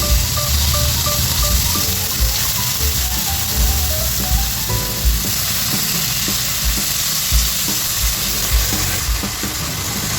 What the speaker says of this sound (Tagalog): Ito ay ipa-fry muna natin.